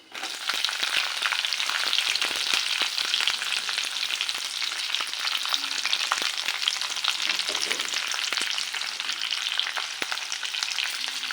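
Green chilies fry in a hot pan with a steady, dense sizzle that runs unbroken throughout, close and fairly loud, with faint stirring scrapes mixed in.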